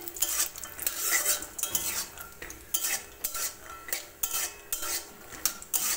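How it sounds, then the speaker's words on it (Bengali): Raw peanuts being fried in oil in a wok, with repeated scraping and stirring clatter of a utensil against the metal pan, a steady rhythm of close stirring strokes and no talk. "কড়াইতে তেল দিয়ে দিয়েছি, আর এই তেলের মধ্যে দিয়ে দেব কাঁচা বাদাম। কাঁচা বাদামগুলো ভেজে নেব"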